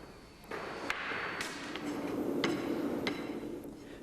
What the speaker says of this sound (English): The last compaction of the sand in the drag is carried out using a flat rammer.